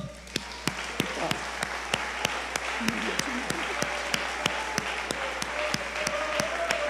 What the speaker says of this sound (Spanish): este es el momento de darle un gloriosísimo aplauso al Señor.